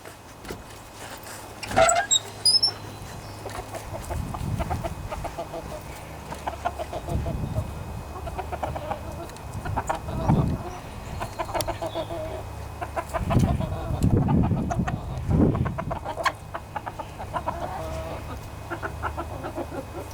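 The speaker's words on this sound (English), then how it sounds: "And let's let them chickens out." Chickens cluck in short bursts, moderately close, with occasional sharper calls and some background rustling and mechanical noise.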